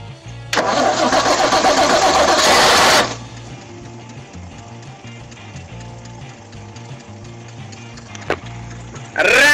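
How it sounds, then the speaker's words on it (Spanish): An old Ford Falcon that had sat unused for years cranks and then fires up, a loud rough burst of revving that settles into a steady, lumpy idle, with a short knock near the end. "No se pierdan el arranque del Falcon."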